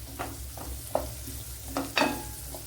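Vegetables sizzle in ghee in a pan with a steady low crackle, broken by a few louder stirring scrapes and clatters.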